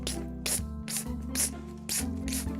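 A voice imitates a spray bottle, making a series of five or six sharp hissing bursts in a steady rhythm over a low, continuous background hum.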